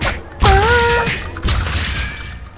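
A bomb blast in the video game AWAY: Journey to the Unexpected lands as a loud low boom with a crashing burst, joined by rising tonal game effects, then a second thud as the noise fades.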